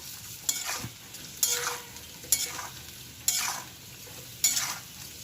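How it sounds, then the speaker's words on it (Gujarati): Spiced potatoes frying in a pan for masala bhungra bataka are stirred in five distinct scraping passes over a steady background sizzle, close and moderately loud, with no talking. "હવે એને આપણે હલાવી દઈશું સરસ રીતે।"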